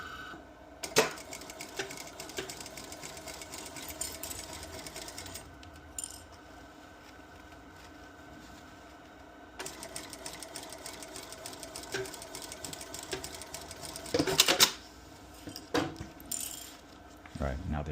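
A sewing machine stitches the seam of a bucket hat in bursts, its rapid mechanical whir stopping and starting with small clicks and clatter between runs.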